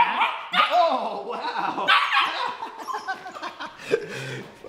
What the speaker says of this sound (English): Fucking nice puppy.